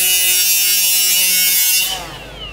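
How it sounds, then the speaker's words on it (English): A Milwaukee M18 braking die grinder with variable speed whines loudly and steadily at high pitch, with strong tonal harmonics, then spins down near the end as the motor brakes. "the M18 braking die grinder with a variable speed function."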